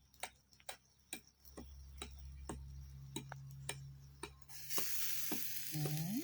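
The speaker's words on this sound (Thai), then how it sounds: "ย่างใส่เกลือย่างเดียวเลย" Large free-range chicken seasoned only with salt grilling over heat, with sharp irregular crackles and pops above a soft sizzle that swells louder near the end.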